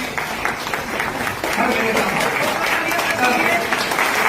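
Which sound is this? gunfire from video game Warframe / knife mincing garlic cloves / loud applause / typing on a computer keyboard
loud applause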